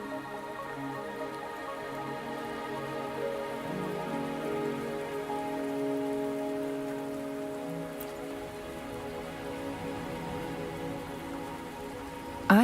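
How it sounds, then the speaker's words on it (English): Steady rain falls softly in the video game Wuthering Waves, with gentle patter and drips under sustained musical tones. A small knock sounds at the very end, and no one speaks. "Are you trapped here by the rain?"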